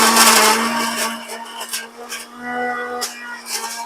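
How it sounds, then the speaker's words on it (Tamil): Blender grinding a creamy pasta sauce with milk, a steady whirring motor hum that runs throughout with a louder harsh burst at the start, while a voice talks over it. "நல்லா கிரைண்ட் பண்ண போகிறோம்."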